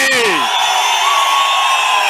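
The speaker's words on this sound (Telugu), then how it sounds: "మీ చప్పట్లే చెప్తున్నా మీ ఆమోదాన్ని" A political rally crowd in Palamaner roars and cheers loudly and continuously, many voices blending into a sustained shout right after a speaker's voice trails off.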